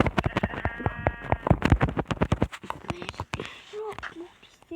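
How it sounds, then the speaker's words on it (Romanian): Sheep in Minecraft bleat repeatedly over a run of rhythmic, close clicking steps, with a few quieter bleats after the clicking stops. "Oaie."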